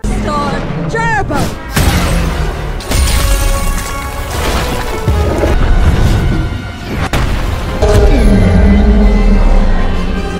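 A loud boom of a rocket exploding in a cartoon, followed by crashing, rumbling blasts and debris, with several heavy impacts layered over a busy, chaotic background.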